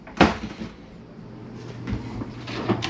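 A wooden drawer in a campground cabin is pulled open, giving a sharp knock followed by a softer sliding rumble and light clatter, all close by and with no talking.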